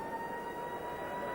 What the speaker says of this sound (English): as the siren belatedly signals half-time